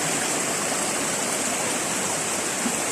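A turbid river flows strongly, giving a continuous dense rushing roar that stays close and loud and steady for the full three seconds with no voices.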